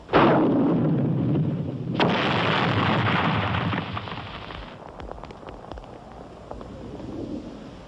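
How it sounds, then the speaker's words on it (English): Mortar fire in a 1977 war film: a close, heavy blast, then a second loud explosion trailing into a long rumbling roar, followed by scattered fainter distant thumps and pops. "Let's wake them up with some mortars."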